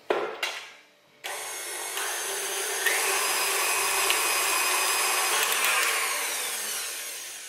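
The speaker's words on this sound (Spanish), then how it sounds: "También le voy a añadir 100 gramos de azúcar. Y vamos a batir todo muy bien." Eggs and sugar being beaten for a white chocolate sponge cake, likely with an electric mixer: a few knocks first, then a loud, continuous whirring drone that runs steadily to the end, with no voices.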